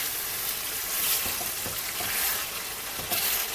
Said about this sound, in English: So once in a while you just give the stir.